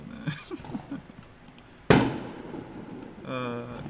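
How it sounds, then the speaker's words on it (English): A single firework goes off outside with a sharp, loud crack and a decaying rumble, with a voice talking before and after. "I'm gonna go outside and use fireworks right now"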